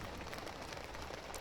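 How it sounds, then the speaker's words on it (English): Steady rain patters in a soft, even hiss while camping in Switzerland, fairly quiet and without any voices. "And of course, it was raining."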